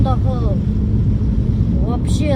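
An old car recently through a major engine overhaul runs with a steady, rough low rumble close by, while people talk over it.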